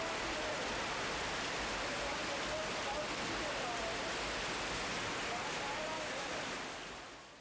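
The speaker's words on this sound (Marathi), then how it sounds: "वादळी वाऱ्यासह पावसाला जोरदार सुरुवात झाली" Heavy pre-monsoon rain with stormy wind in Mumbai, a dense steady roar of downpour and gusts filling the whole stretch, loud and unbroken before fading slightly at the end.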